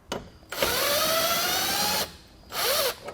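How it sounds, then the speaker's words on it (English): A power drill spins out 7 mm fasteners holding the headlight of a 2020 Chevrolet Equinox: two close, loud whirring bursts, the first long and steady, the second shorter with a pitch dip as the fastener backs out. "2 of them will be up top here, and those are going to be 7 millimeters. So get those pulled out"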